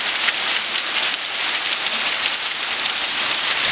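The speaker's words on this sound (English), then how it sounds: "We're just going to have rain till it did move." Steady rain pours down, a dense continuous hiss of drops hitting a surface, loud and even throughout with no voices.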